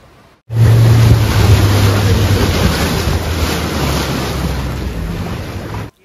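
Boat ride into the Benagil sea cave on the Portuguese coast near Faro, a loud, steady rush of wind and surging waves with a low engine hum underneath, starting abruptly and cutting off near the end.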